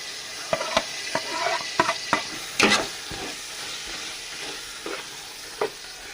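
Tomatoes frying and sizzling in a pan for beef biryani, stirred with a spoon in a steady run of scraping clatters over a continuous hiss, alone without speech.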